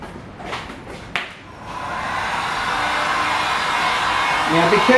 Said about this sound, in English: I'm going to get my dryer and express dry that so it's dry enough to re-coat